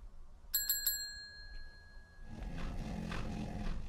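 A front counter service bell in the game Bloodwash, struck three quick times with bright ringing tones that hang in the air, followed by a low rumbling ambience.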